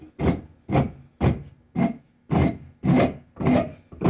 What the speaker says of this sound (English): saw rasp. It's a Japanese file. It's fine on one side and rough on the other.